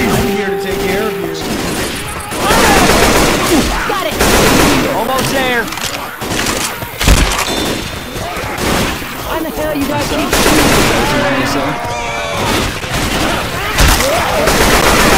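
Continuous gunfire in the video game Left 4 Dead 2, rapid automatic bursts and single shots layered with impacts and booms over sustained loud combat noise, with players shouting in between.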